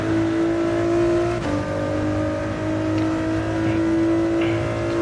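A racing car engine in a driving game at Abu Dhabi holds a steady, loud drone, its pitch shifting only slightly through a corner, with no talk over it.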